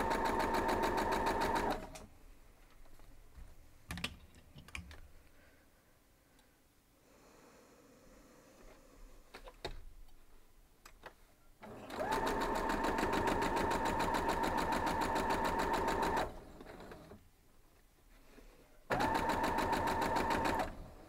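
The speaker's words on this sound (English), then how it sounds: "just lay these down here and we'll start running our stitches through" A sewing machine stitching a quilt block seam, running in three loud steady bursts of fast whirring with quiet pauses and light handling noises between.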